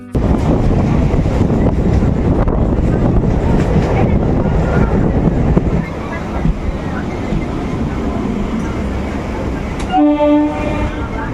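A local commuter train runs from Arambagh toward Howrah, its steady loud rumble and rattle of carriages filling the whole stretch, with a sustained horn blast sounding near the end.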